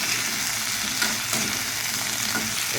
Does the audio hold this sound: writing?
no